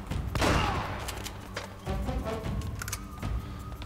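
Shotgun blasts in Uncharted: Drake's Fortune, a loud close boom at the start followed by further sharp shots and impacts scattered amid game noise.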